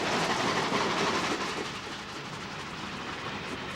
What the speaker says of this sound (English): A Korean War troop train rushes by on the adjacent Santa Fe line.